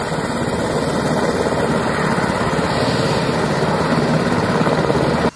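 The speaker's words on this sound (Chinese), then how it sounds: "空勤队29号的一早立即派出了空勤直升机前往救援" A rescue helicopter from an air service unit on a mountain evacuation near the Tafen Valley hut in Taitung makes a loud, close, continuous rotor and engine roar that stays constant throughout, with no voices.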